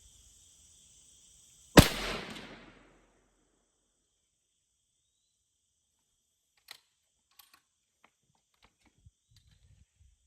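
A single sharp, loud shot from a suppressed subsonic 300 Blackout rifle loaded with IMR 4227 powder, fired at a milk jug outdoors, followed by a brief rumbling decay and then faint scattered clicks.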